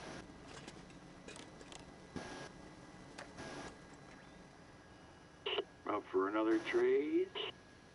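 A telephone being dialed in The Long Dark game, a short run of quick electronic tones and beeps clustered near the end, with quiet scattered sounds and faint talk earlier.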